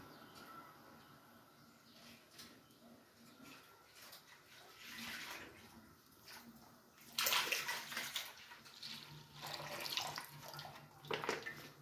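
Milk is poured into a pot for hot chocolate, a faint, uneven liquid splashing and trickling that comes in bursts, with louder pours toward the end.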